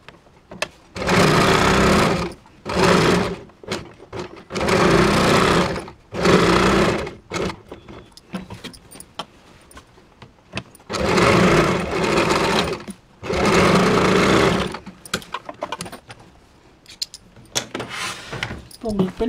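Sewing machine stitching the neckline of a designer blouse in slippery fabric, running in several loud bursts of a few seconds each with pauses between, plus light handling noise.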